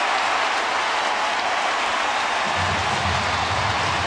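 A baseball stadium crowd at a Milwaukee at St. Louis game on Fan Appreciation Day roars and applauds as the home side ties the score. The dense, steady wall of cheering swells louder partway through.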